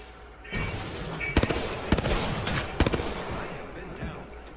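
Several sharp gunshots in a multiplayer shooter video game, including a sniper rifle shot, crack out over steady game noise at close range, with a few spaced bursts of fire across a few seconds.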